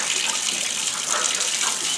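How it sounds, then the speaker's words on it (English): Cold water pours steadily from a newly installed kitchen sink faucet, a continuous close hiss of running water with no talk over it. "We got our cold water"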